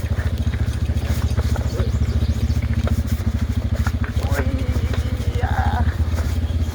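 An office motorcycle riding over a rough road gives a steady, loud, close engine drone with rhythmic pulsing and rattling clatter throughout, with faint voices now and then.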